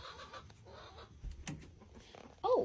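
Chickens in a backyard coop give soft, scattered clucks and murmurs at close range, with some quiet shuffling and a louder cluck or squawk near the end.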